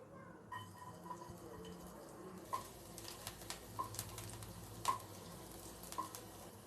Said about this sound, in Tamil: பூண்டு நல்லா வதங்கணும்.